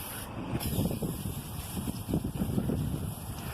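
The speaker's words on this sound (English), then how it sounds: "So he's spraying it with gunk." A hissing aerosol spray of Gunk engine degreaser onto a Dodge Durango engine at a car wash, fairly steady and moderately close, over a low background rumble.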